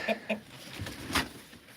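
A rooster inside a chicken coop gives a couple of short, close clucks, followed by a faint scuffle and another brief call.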